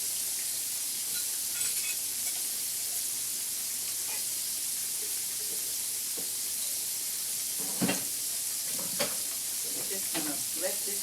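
Food searing in a cast iron skillet, a constant hissing sizzle that stays even throughout, with a few sharp pops and utensil taps near the end, no talking.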